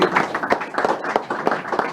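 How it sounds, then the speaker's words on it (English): Audience applause fills a room at a Masters Games event, with dense, steady clapping throughout, fairly close and moderately loud, without any voices. "a big round of applause"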